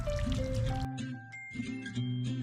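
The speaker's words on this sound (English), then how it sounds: "Then you add a little bit of water." Water trickles and dribbles steadily onto soil around a freshly repotted pepper plant, a close, continuous pour lasting a couple of seconds with a soft tonal hum underneath and no talking.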